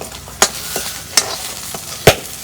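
Small taki fish fry in a pan with a soft, steady sizzle, broken by a few sharp clicks and scrapes of a spatula, close by and with no speech.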